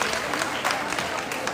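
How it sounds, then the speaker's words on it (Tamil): Applause from an audience at a fire-walking cultural event, a dense steady patter of many hands in a large crowd, heard briefly at moderate level with a voice faintly underneath. "அவங்களுக்கு ஒரு பெரிய கைத்தட்டு கொடுங்க."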